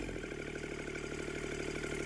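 A Kubota diesel engine, just back together after a fuel injection pump rebuild, runs with a steady rhythmic clatter, faint and continuous.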